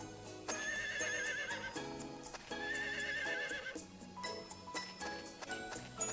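A horse whinnies twice in the Harvest Moon Skytree Village video game, each call a loud, wavering neigh set over a background of game music and faint clip-clop hoofbeats.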